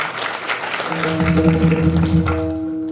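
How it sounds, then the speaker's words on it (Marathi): An audience at a Shiv Naam Saptah kirtan gathering claps together, a brief burst of applause mixed with a sustained harmonium tone that fades at the end. "त्यांच्याकरता टाळ्या।"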